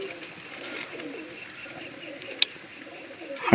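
Pigeons in a loft coo softly in short, scattered bursts against a quiet background of faint rustling, with a few brief louder calls.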